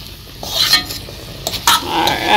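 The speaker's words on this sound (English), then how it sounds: "we're just going to allow this to saute for about 2 minutes more" Moringa drumsticks in a stir fry sautéing in a pan give close stirring scrapes and clatter over a soft sizzle, loud and uneven over a few seconds.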